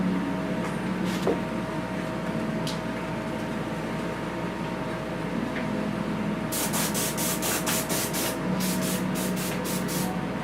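An airbrush sprays base coat paint onto a Savage Land Misty figure in a steady hissing wash, with a run of rapid short bursts near the end, set against a constant background hum.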